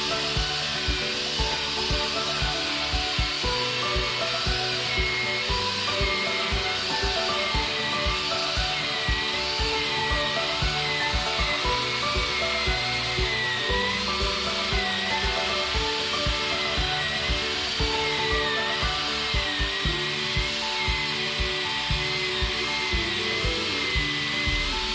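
A power buffing wheel works a brass shifter rod for a custom Sportster, loaded with polishing soap and pressed evenly; a steady, loud whirring and rubbing hum continues unbroken throughout with no talk.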